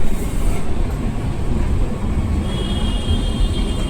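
Steady low rumble of a moving metro train in Bangalore, heard from inside, with a constant broadband roar and a faint high whine appearing toward the end.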